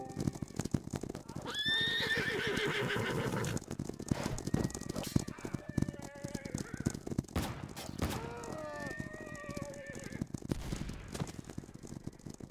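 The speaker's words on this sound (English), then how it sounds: "They are coming out on their horses." Cavalry horses in a multiplayer war video game set in British Army Asia, several loud whinnies rising over dense clattering hooves, with scattered gunfire and battle noise around them and a faint voice now and then.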